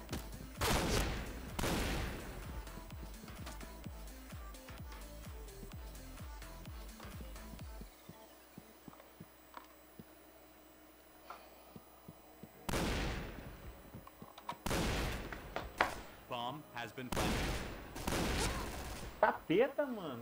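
Rapid bursts of video game gunfire crackle loudly in clusters, with a long quieter stretch in the middle before more shots resume.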